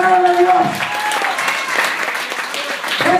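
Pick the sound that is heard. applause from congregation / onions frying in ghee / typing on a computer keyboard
applause from congregation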